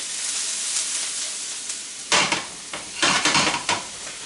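Garlic and onions sizzle in a pan while chicken piccata is being made, with a steady broadband hiss for the first two seconds, then louder bursts of stirring and scraping as the pan contents are moved around.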